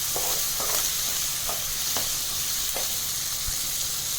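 Mixed vegetables with salt and sambhar masala sauté in a pan for sambhar, giving a steady close sizzle broken by light stirring scrapes.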